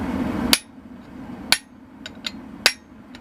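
Three sharp, loud hammer blows ring out about a second apart as a fuller is struck against a forged bearing race knife clamped tightly in a vise, with faint ringing between strikes and no talk.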